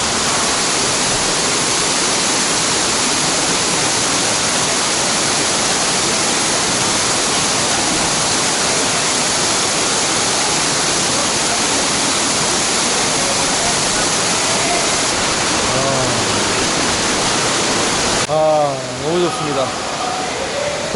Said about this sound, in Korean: 여기도 이 폭포도 엄청 좋네요